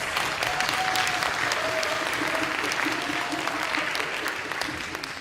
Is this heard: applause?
yes